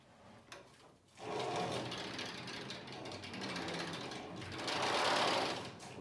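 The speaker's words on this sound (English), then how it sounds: "First, I'm going to make sure that this is tightened up appropriately." A router sled built from bed rails is tightened with a ratcheting tool, a close, continuous run of rapid clicking and grinding mechanical strokes that rises in loudness toward the end.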